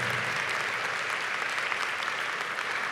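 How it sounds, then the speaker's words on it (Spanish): Church congregation claps loudly and continuously in a dense, even wash of applause filling the whole stretch. "Aplauda fuerte en esta hora."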